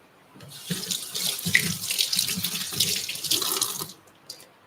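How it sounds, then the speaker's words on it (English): Hands are washed under a running kitchen tap, the water splashing and gurgling unevenly for about four seconds at close range before shutting off, with no talk. "first I'm going to wash my hands."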